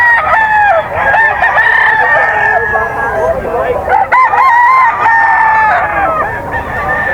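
Breeder roosters at a gamecock sale in Paloan crow loudly and close by, long overlapping cock-a-doodle-doo calls repeating through the whole stretch with little pause.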